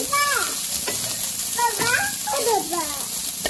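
Cooked rice fried in a pan with a little salt and turmeric, a steady sizzle and stirring under a fairly loud voice talking throughout, in a village kitchen.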